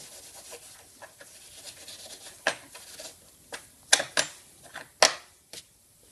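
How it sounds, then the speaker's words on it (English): Steel wool rubs across the metal slide plate of a brake lathe in short, scratchy strokes, quiet between sharper, louder swipes. "See how gentle the steel wool is because it doesn't even rub all of our writing off."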